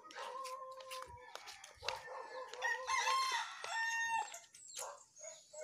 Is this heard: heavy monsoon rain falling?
no